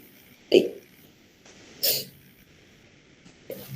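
Two or three abrupt, explosive sneezes from a nearby person interrupting a lecture on nasal and sinus conditions, spaced about a second apart, with a softer third burst at the end.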